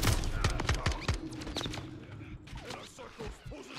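Rapid bursts of gunfire from the Modern Warfare 3 campaign, a close, loud cluster of sharp shots in the first second or so giving way to scattered, fainter shots and battle noise.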